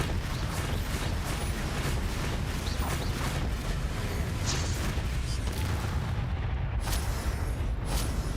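Bombarda blast in the video game Hogwarts Legacy: a steady wash of rumbling booms and crackling debris fills the scene at constant loudness, with a sharp blast partway through.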